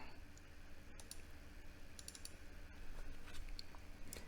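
Keys on a computer keyboard tapped in a quick, light string while entering a number, close and quiet over a steady background hum, with no talking.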